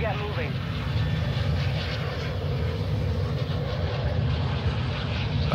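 Steady propeller-aircraft engine drone inside the video game Warzone 2.0, a continuous moderate hum with a voice talking over it.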